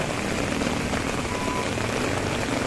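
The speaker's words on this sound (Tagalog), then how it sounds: "Sana hindi naman ganito kalakas ang ulan bukas." Heavy rain falls in a dense, steady roar that fills the whole stretch with no break. No voices are heard.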